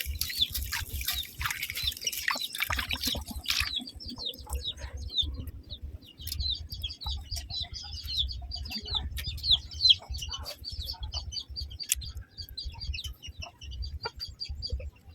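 Chickens cluck and chirp while being fed outdoors at a rural home, a scattered busy chatter of fowl at moderate distance with no talk.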